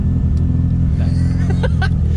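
A turbocharged 13B rotary in a Mazda 1300 Coupe idles with a lumpy, uneven low throb, loud and close, while a person speaks briefly over it.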